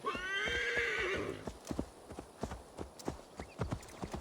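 A horse in Assassin's Creed Valhalla whinnies loudly, then its hooves beat out a steady clip-clop gallop with close, evenly spaced thuds, without any talk.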